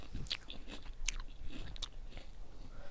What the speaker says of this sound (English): A little ASMR crunching.